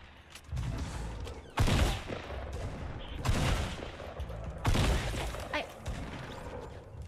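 Video game Fortnite gunfight with three loud, heavy shotgun-like blasts spaced a second or more apart, plus scattered lighter shots and clatter in between, no talking.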